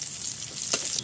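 Bay leaf, a dried chili, whole cumin and crushed garlic fry in hot oil in a pan, giving a steady close sizzle with one brief louder crackle.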